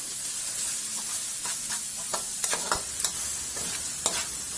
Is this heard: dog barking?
no